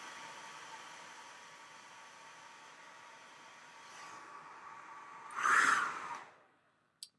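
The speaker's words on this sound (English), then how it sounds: "the lower setting on the hair dryer. I'll just give it a little bit of a blast with some air and heat" A hair dryer on its low setting blows air and heat onto stage facial hair, giving a steady soft whoosh throughout that swells into a louder, closer rush of air near the end before cutting off.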